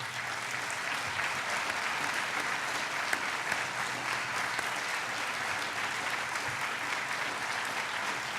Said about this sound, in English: for a round of applause.